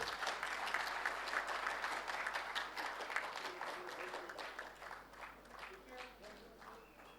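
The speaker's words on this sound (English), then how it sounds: "Everybody, please give a big round of applause." A conference audience applauds panelists at a sustainability panel discussion in Pune, with dense, steady clapping that gradually thins and fades toward the end.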